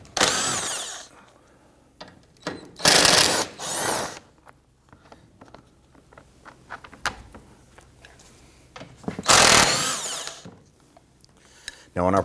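Several 12mm bolts are loosened and removed on a 2011-2015 Kia Sorento. Three short, loud power-tool bursts whirr up close, separated by quieter clicks and handling noises.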